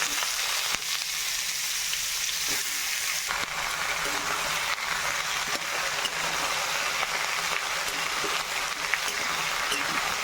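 Bottle gourd stir-frying in hot oil with dried chilli, bay leaf and whole cumin, a steady close sizzle running the whole time with faint scraping stirs.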